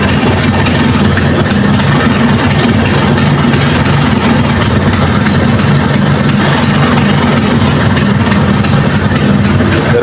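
A Vespa Sprint scooter engine idles loud and close with a steady low rumble and constant vibration, held with the clutch lever pulled in, no voices over it.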